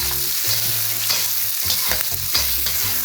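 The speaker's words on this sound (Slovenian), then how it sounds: "Zdaj pa še zadnja stvar, ki bomo v olje vrgli, naša paprika." Bell pepper frying in hot oil with steady, loud sizzling and crackling, while stirring scrapes and clinks against the pan throughout.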